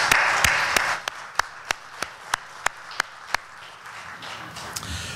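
Audience applause at a corporate announcement event: a brief burst of crowd clapping that thins quickly into a string of single, evenly spaced loud claps close by, under a faint room hum.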